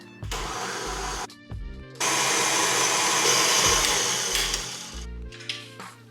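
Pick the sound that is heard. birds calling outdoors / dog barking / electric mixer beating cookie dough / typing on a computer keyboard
electric mixer beating cookie dough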